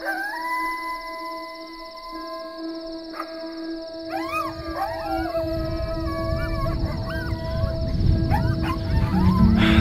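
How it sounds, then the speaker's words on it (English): At night a coyote howls outside a turkey house, a long wavering wail that rises and bends in pitch through repeated yips. It sits over a steady background hum and swells louder toward the end. "a coyote came right up to their door"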